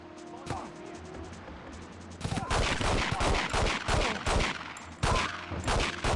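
Gunfire in the N64 game 007: The World Is Not Enough crackles in dense, loud bursts of rapid shots, with a brief pause and then a renewed volley near the end.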